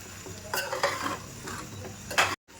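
A prawn, dry fish and egg palya is stirred slowly in a pan, with soft scraping strokes over a quiet sizzle. It sounds close and fairly faint, and ends in a brief cut to silence.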